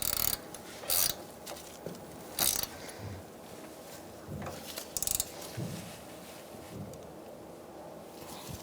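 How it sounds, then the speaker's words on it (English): Ratchet tightening a bolt and nut on the front brake hose of a 2002-2006 Honda CR-V, several short bursts of quick clicking spaced apart, fairly faint against quiet background with no talking. "So we're going to tighten up our bolt and nut."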